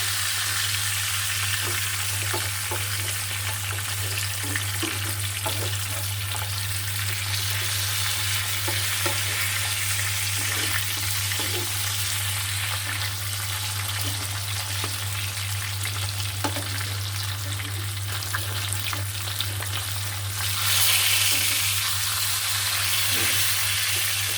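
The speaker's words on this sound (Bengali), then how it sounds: "মাছ ভাজাটা আমার হয়ে গেছে এখন আমি নামিয়ে ফেলবো" Koi fish frying in a pan of oil on a stove over low heat, a continuous even sizzle with soft crackles lasting throughout, under a low steady hum, no talking.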